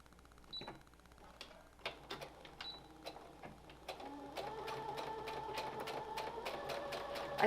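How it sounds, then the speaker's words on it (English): Sewing machine stitching across the two overlapped ends of elastic for a fabric face mask, starting with a few separate clicks and short bursts, then running in a steady, rapid mechanical whir close by. "Bring it to the machine and you're going to stitch the two ends of the elastic."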